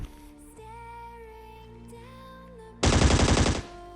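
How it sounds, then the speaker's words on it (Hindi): A rapid burst of automatic gunfire in the battle royale game Scarfall 2.0 on the Andaman map, loud and close, cutting in over soft in-game ambience and tonal music for under a second. "सामने से फायरिंग की आवाज़ आ रही थी"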